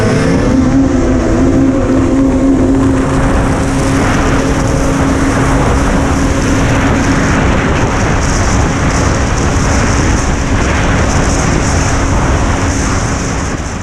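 A 2020 Polaris Indy 850 XC 137 snowmobile being ridden, a loud continuous engine roar with a droning tone that stays close and steady throughout, then eases slightly at the end.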